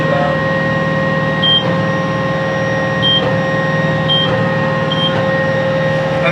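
A slow power-shift tractor runs steadily up close while baling cane, a loud continuous engine drone with tonal whine and periodic faint beeps, no speech.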